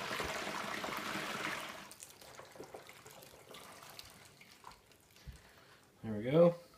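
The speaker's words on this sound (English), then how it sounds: "I'm going to just try and carefully pour it here into the fermenter." Homebrew beer liquid poured from a vessel into a fermenter, a steady splashing pour for about two seconds that tapers to faint trickles and drips, with a brief voice near the end.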